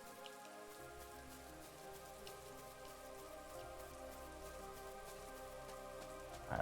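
Steady rainfall patters evenly throughout a scene in the role-playing video game Chained Echoes, underneath sustained tonal background music, with no voices.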